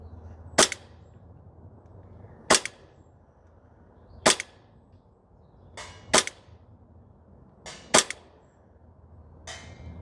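Five sharp, evenly spaced shots from a Novritsch SSP28 airsoft pistol on an outdoor range, each a crisp snap roughly two seconds apart, with quieter faint clicks after some, and no talking.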